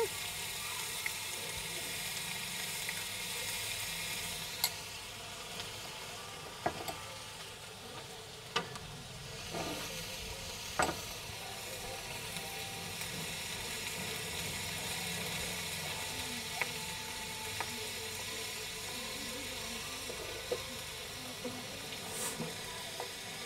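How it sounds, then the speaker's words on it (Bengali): Onion paste fries in a wok with a steady sizzle and hiss, punctuated by occasional sharp clicks and spatters. It sits at moderate volume, mostly alone, with a voice faintly present at times. "পেঁয়াজ বাটাটা একটু মিডেলে দেব যেহেতু একটু ফ্রাইয়ের ব্যাপার আছে"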